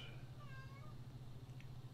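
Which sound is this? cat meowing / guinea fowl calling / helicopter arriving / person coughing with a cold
cat meowing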